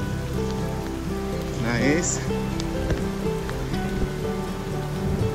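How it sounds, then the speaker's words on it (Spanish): Steady rain patters on a surface throughout, at a shelter on the Maxwell Trail in Arizona, with a person briefly speaking a couple of words over it. "Refugio ahorita que está lloviendo"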